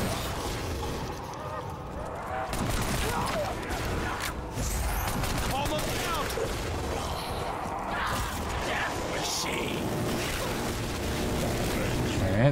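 Gunfire crackles in Black Ops III custom zombies, a dense, continuous, loud barrage mixed with game noise and a speaking voice throughout.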